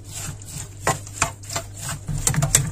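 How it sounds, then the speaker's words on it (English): A spoon stirs a homemade hair growth mixture in a pot, making soft irregular knocks and scrapes against the sides over a quiet background, with no one speaking. "Give it a nice stir."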